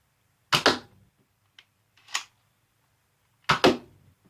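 A Nerf Zombie Strike Crosscut blaster fires in three bursts: a sharp double pop, then a fainter single snap, then another strong double pop, each crisp and close, with quiet gaps between.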